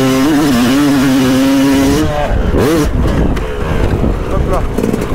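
A motocross bike engine revs loud and close through a dirt-track turn, its pitch rising and wavering for two seconds before breaking into rougher, choppier engine noise with a rider's voice mixed in.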